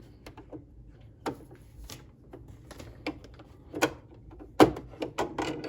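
Needle plate being pulled out of a Brother LX 3817 sewing machine: scattered small mechanical clicks and plastic-and-metal knocks, sparse at first, then sharper and louder toward the end.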